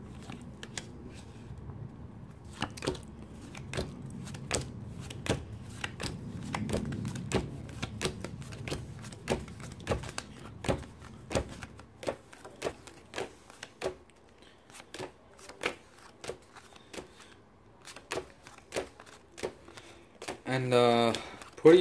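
A deck of playing cards is shuffled for a beginner card trick, giving a series of quick, close, crisp riffling snaps and clicks spread across a spell of quiet, while a person talks.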